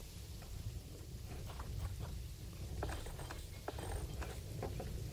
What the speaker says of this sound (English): I really want it to stop raining.